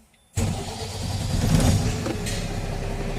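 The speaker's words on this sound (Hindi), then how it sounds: "फिर से गाड़ी को स्टार्ट करेंगे" A vehicle with a Cummins 4830 engine cranks and fires abruptly out of near silence, then settles into a steady loud idle rumble that holds without a break, heard close up.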